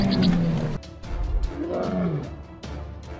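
A lion roars at close range during a safari drive, deep rumbling bursts rising and falling across a few seconds, with vehicle noise and faint voices mixed in.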